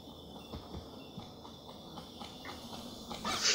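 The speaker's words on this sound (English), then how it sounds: "Kill this dog behind the bush." A dog creature in the video game Overgrowth gives faint whimpers over soft repeated clicks, ending in a sudden louder burst of noise.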